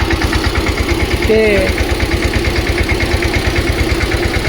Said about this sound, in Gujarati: એમનું ટ્રેક્ટર છે અને એક અન્ય બીજું ટ્રેક્ટર પણ આવ્યું છે